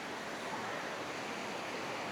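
A river flows under a stone bridge near Drvengrad, Serbia, making a steady, even rush of water at moderate volume with no voices.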